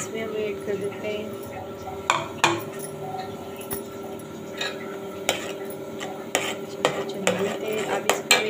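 A spoon stirs mutton soup in a metal pot, giving repeated close clinks and scrapes against the pot over a steady low simmer, with no talk.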